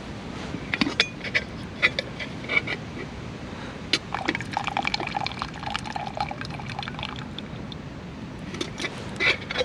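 Herbal tea with berries pours from a teapot into a cup, a thin uneven trickle with clinks and creaks, close and quiet, with no talk.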